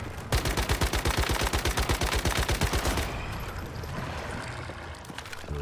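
Video game gunfire: a long, loud, steady automatic burst of roughly thirty rapid, evenly spaced shots lasting almost three seconds, then a quieter, rumbling tail with no talking.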